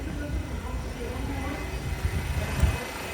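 A D subway train running on the F line between Kings Highway and Coney Island–Stillwell Avenue gives a steady low rumble with dull clunks and a brief louder knock near the end, with voices faintly mixed in.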